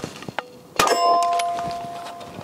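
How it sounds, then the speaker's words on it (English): Magazine swap on a B&T BWC9 pistol-caliber carbine: a light click, then a sharp metallic clang followed by a ringing tone that slowly decays, close up with no talking. "Here, stripping that mag, new mag in, come up."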